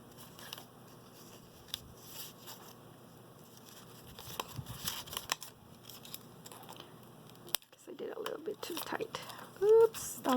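Scissors trim the edges of sewn paper cards for a tri-fold tag folder, giving scattered snips and paper rustles, close and fairly quiet, with someone talking over them.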